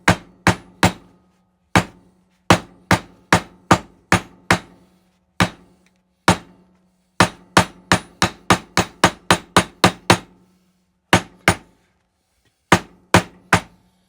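A hammer strikes a real axle shaft on a Honda ATC70 three-wheeler being taken apart, giving sharp, loud metallic blows in uneven bursts, some quick runs of rapid hits, separated by silent pauses.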